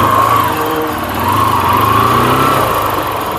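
A motorbike engine idles close by on a street, a loud, steady buzzing drone with slight rises and falls and no talking.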